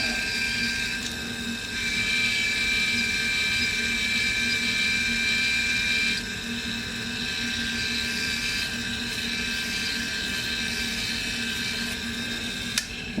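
A small power tool whirs steadily while chamfering and deburring a .22 Rem Jet brass case, a continuous high-pitched spinning drone with a few brief shifts in pitch, near and fairly quiet.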